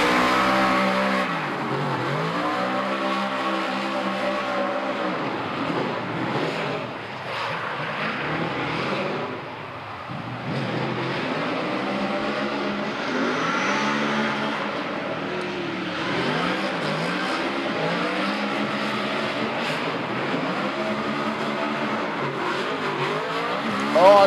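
A professional drift car at Baypark Stadium runs a D1NZ qualifying lap, its engine revving hard and rising and falling with gear changes and tyre squeal, loud and close for the whole stretch.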